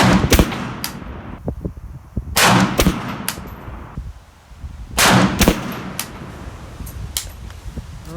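PSA AK-P 7.62x39 pistol firing two tight groups of rapid shots, loud and sharp, with quieter clicks and handling noise between.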